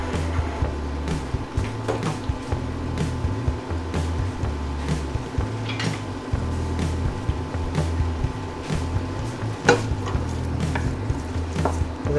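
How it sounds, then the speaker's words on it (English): Onions and garlic cook in a pot while they are stirred. A steady, low sizzling bubble runs throughout, with scattered close scrapes and clinks from the spoon and no talk. "We're going to cook these onions and garlic until everything is translucent"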